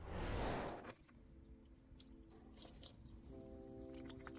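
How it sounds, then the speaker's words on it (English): Water is poured into a terrarium pond over a drainage layer and dead leaves, with a loud splashing pour at the start that settles into steady trickling and dripping, alone and without speech. "and then it's time to add the water."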